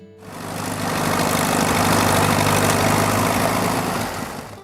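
A Minneapolis Moline U farm tractor engine runs steadily, a loud, near, droning rumble that swells in, holds even for several seconds and eases off at the end, with no voices.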